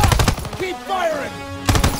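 Gunfire bursts in the World War II shooter Call of Duty: WWII, rapid loud shots opening the clip and returning at the end, with a whistling tone and voices in between.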